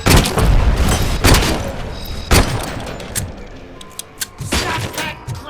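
Gunfire and heavy explosions in the video game Robocop: Rogue City: loud, close booms and shots strike in uneven clusters, with a rumbling tail after each blast and sharper cracks near the end.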